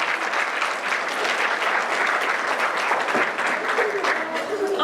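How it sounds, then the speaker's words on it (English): An audience at a UC Irvine TRIO program keynote event claps steadily for friends and family, a close, dense patter of hands lasting the whole five seconds, with some faint voices mixed in. "So let's give a round of applause to all of our friends and family right"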